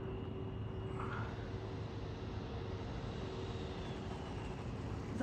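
An FMS 64mm F-16 RC jet taxiing back along the ground, its electric ducted fan giving a steady, moderate whine and rush with a constant tone, no talk.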